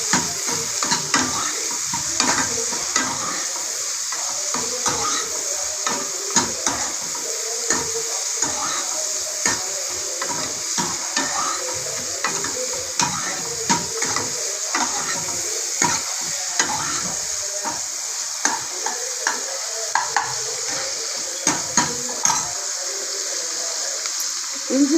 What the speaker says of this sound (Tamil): 2 தக்காளியை போட்டு நல்லா வதக்கி வச்சுக்கணும்.